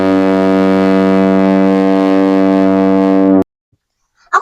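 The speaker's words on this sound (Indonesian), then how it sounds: "bagus banget loh suara klaksonnya." Novelty vehicle horn sounding one long, loud, steady ship-like blast lasting a few seconds, then cutting off abruptly into silence before a brief faint noise.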